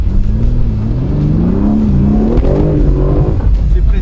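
A car engine revs and accelerates in third gear with strong low-end torque, a loud close rising drone sweeping upward and holding steady, with a voice talking faintly underneath.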